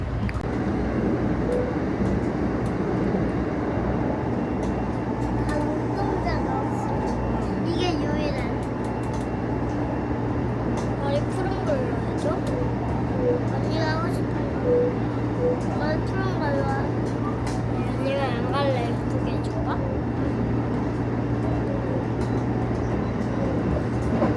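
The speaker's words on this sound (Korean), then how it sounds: "This train is the Rapid Express bound for Nara." A Kintetsu Railway Rapid Express train bound for Nara rumbles steadily from inside the carriage, a constant low hum and rattle, with faint voices and chatter over the running noise.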